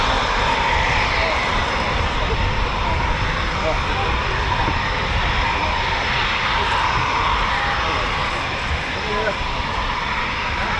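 Eurofighter Typhoon FGR4 fighter jets at RAF Coningsby in Lincolnshire, heard as a loud, steady, broadband jet roar that fills the whole stretch with little change, while people talk faintly underneath.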